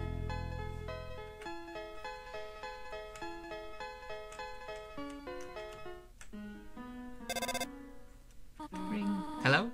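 A cell phone rings in the video game Undertale, a bright, electronic melodic ringtone of quick repeating notes that plays alone and ends in a short burst of chiming tones.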